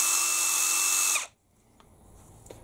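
A Bosch GDR 18V-EC brushless impact driver runs at high speed with a loud, whining motor hum, then stops abruptly after about a second, followed by quiet with faint clicks.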